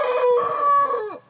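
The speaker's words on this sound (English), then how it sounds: "Cornish cross I got left, one hen." A Cornish cross hen in a backyard flock gives a single drawn-out, loud, close call that falls away at the end, sounding more like a crowing cry than soft clucks.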